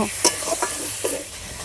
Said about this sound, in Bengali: পটলের সঙ্গে মশলাটা ভালো করে কষিয়ে নিয়েছি